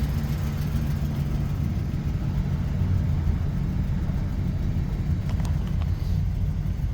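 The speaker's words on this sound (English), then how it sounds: "We've been idling here for 5 or 10 minutes." A Chevy Express van engine idles while warming up after heater control valve and radiator work, a steady low rumble with constant hum, unchanging throughout, with a few faint ticks near the end.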